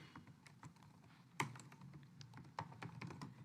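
Quiet typing on a computer keyboard while writing C++ code, soft irregular keystrokes up close with one sharper key press, all faint and with no talking.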